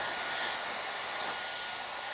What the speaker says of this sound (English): Blow dry your front part.